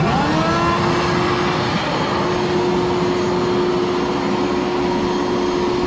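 An old vacuum cleaner fitted with a drywall bag: steady, loud motor whine with a constant droning hum and broad rushing air noise, running continuously without pause, close up.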